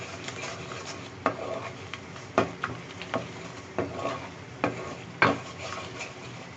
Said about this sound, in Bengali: সবগুলো মশলা দিয়ে এখন আমি এটা ভালো করে একটু নেড়েচেড়ে মিশিয়ে নিচ্ছি